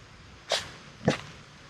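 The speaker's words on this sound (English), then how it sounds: "I'm not very comfortable with an unknown dog smelling me." An unfamiliar dog sniffs at a person, giving two short, sharp nasal snorts about half a second apart, close by and loud against quiet surroundings.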